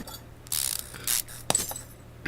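A ratchet turns to remove a wheel hub in Car Mechanic Simulator 2015, with a few short bursts of clicking separated by brief pauses.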